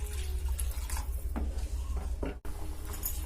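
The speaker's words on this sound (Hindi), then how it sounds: "और थोड़ा सा पानी देते हैं" Water being added to a cooking pot while an Odia badi besara curry of lentil dumplings and batter water heats toward a boil; a steady close splashing and trickling under a low hum, ending with a brief gap.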